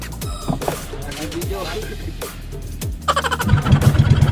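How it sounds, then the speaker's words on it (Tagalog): A small boat engine on a harvesting trip in Anda, Pangasinan, sputters and fails to catch in several short bursts before a rapid rhythmic chugging near the end, with voices around it. "Ayaw pa umandar ng makina."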